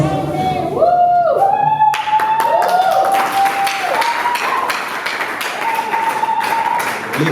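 Festival audience in Kinshasa clapping after a film screening, a dense patter of hands filling the room while a voice talks over it and a few sharper taps stand out.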